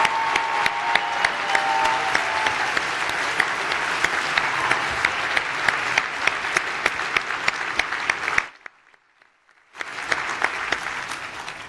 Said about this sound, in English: I'd like the rest of you to join me in a round of applause of